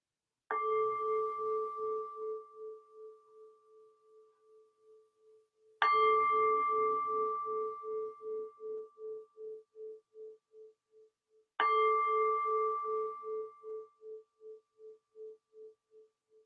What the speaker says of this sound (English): In a moment, I'll ring the bell, letting the sound of the bell seal this intention.